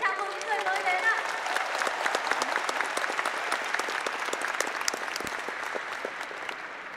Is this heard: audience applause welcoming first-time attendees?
yes